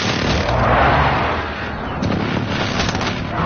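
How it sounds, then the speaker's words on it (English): Explosions from an enemy precision airstrike on the St. Petrograd map of a video game make a loud, sustained booming rumble that swells, dips briefly, and then rolls on. "Enemy precision airstrike."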